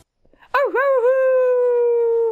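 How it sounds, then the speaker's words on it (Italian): A howl emote in Destiny: one long wavering canine-style howl that rises, dips, then holds a steady tone for nearly two seconds before cutting off abruptly. "Prima però proviamo l'ululato."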